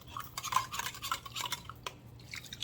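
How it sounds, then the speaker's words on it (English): A spoon stirs chicken stock around inside a can of mushrooms, rattling and scraping the metal sides in quick, close bursts with short pauses. "I'm going to give all of that a good stir."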